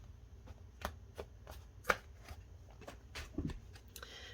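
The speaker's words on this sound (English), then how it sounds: "I'm going to do one more shuffle," Soft papery riffling and light taps of tarot cards being shuffled, a few sharper snaps standing out, close and quiet with no talking.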